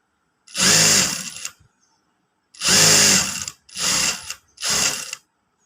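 A sewing machine stitches a Katori blouse in four loud, close mechanical bursts: a long run, a pause, another long run, then two shorter runs, with silence between and no talking.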